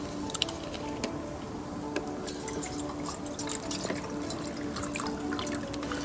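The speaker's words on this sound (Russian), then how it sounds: "Наливаем воды в кружку." Water poured into a mug outdoors at a dacha, a steady liquid trickle with small drips and splashes running for several seconds, fairly quiet and close.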